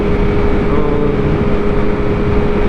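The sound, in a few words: motorcycle with M4 Moto GP shorty exhaust on highway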